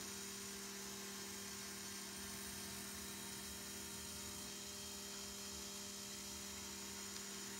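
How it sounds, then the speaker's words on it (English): A small cup turner motor spins an epoxy-coated wine cup with a faint, steady electric hum and a constant whine. The sound is quiet and unbroken throughout, with no voices. "And then letting the cup turner do the work."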